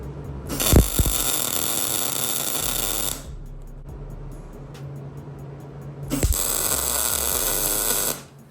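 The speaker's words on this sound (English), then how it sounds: "So let's get this centered out and then start tacking." Tack welding on suspension mounts of a GMC Sierra prerunner build, two loud buzzing arc bursts each lasting about two to three seconds, separated by a quieter stretch of workshop hum.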